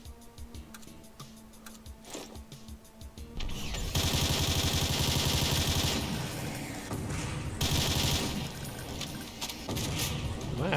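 Rapid continuous gunfire at zombies in a modded Doom game, a loud sustained rattling stream of shots that starts after a few quieter clicks and keeps going for several seconds, with no talking over it.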